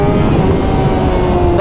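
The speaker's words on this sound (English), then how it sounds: "So I'm going to twist the throttle and it's going to bring me up." A motorcycle engine is revved hard as the throttle is twisted for a power wheelie, a loud, sustained tonal drone with wind rush over the microphone, ending in a quick upward whine.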